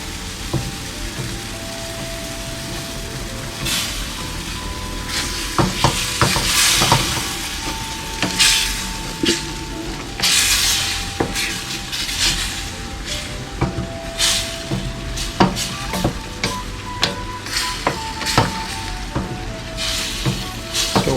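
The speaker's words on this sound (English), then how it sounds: "I'm just going to scrape this all off the bottom." Chicken Marsala sauce sizzling steadily in a pan while a utensil repeatedly scrapes and knocks across the bottom, close up and busy throughout, with no talking.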